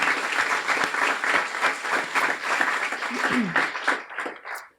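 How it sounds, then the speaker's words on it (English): An audience at a guide dog graduation ceremony gives a round of applause for volunteers; sustained, dense clapping with crowd noise mixed in, tapering off near the end as a voice comes in. "Let's quick round of applause for everyone who volunteers"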